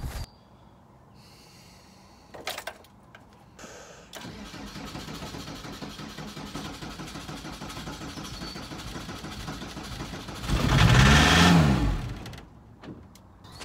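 A VW T25 diesel engine cranks and catches, then idles with a steady clatter before revving loudly briefly and settling back down, while air is bled from its fuel lines.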